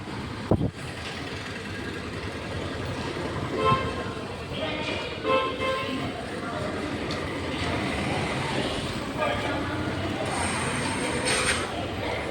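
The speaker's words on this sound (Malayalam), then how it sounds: "ഇതാണ് നമ്മുടെ പാലക്കാട് ജംഗ്ഷൻ റെയിൽവേ സ്റ്റേഷൻ" Busy Palakkad Junction railway station ambience in Kerala, India: a steady rumble of trains and crowd murmur, with a horn toot sounding briefly near the end.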